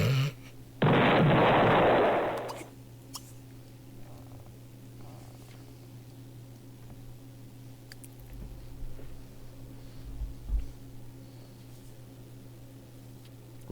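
Explosion sound effect in The Sims 3: a single loud, roaring boom lasting nearly two seconds, followed by quiet game ambience with a low steady hum.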